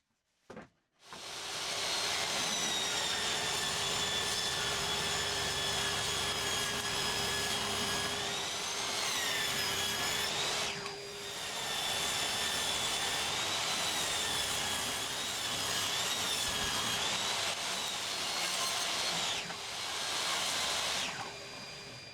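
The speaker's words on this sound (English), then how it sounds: "take the two thicker boards back to the table saw. Make them 1x2s, cleaning up both sides for a nice square piece" Table saw ripping thick wooden boards down into square 1x2 strips, a loud continuous high whine of the blade biting through wood for about twenty seconds, with a brief dip mid-cut and no talk.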